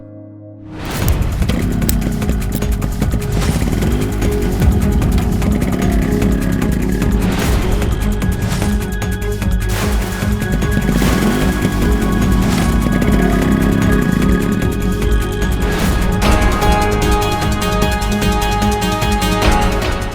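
A motorcycle engine drones loud and close throughout, with a steady rumble and a few revving surges. No one speaks.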